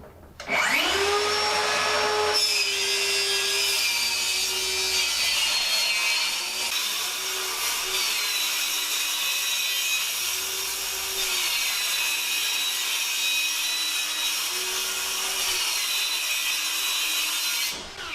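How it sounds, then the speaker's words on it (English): A circular skill saw cuts wood for the soffits of an off-grid 16x40 cabin, a loud, steady, close whine that runs nearly unbroken for about eighteen seconds, its pitch dipping slightly as the blade bites, with no talking. "Gentlemen, start your skill saws."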